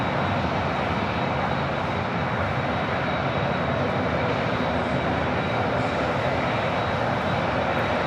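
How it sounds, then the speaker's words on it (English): A 24-year-old Boeing 747-400 freighter on approach to land at LAX after a flight from Anchorage, giving a continuous, even broadband engine roar at moderate distance with no other sounds standing out. "This is Coletta Air 653 coming in from Anchorage on a 24-year-old 747-400 freighter."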